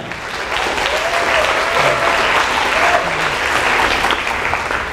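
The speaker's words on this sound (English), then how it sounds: "give yourself a round of applause for being here" Steady, fairly loud applause fills a keynote hall on salary negotiation, a dense even clapping from a large audience that holds at the same level for the whole stretch.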